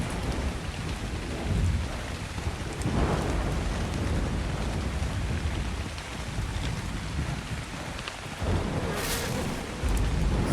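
Thunderstorm in a video game set in the highlands: steady heavy rain hisses throughout while low thunder rumbles roll in several times, one sharp crack near the end, with no voices.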